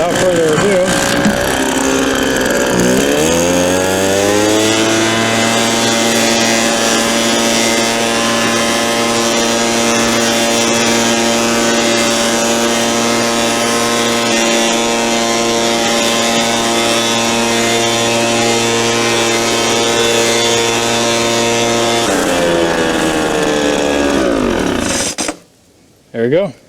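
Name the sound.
McCulloch two-stroke leaf blower engine running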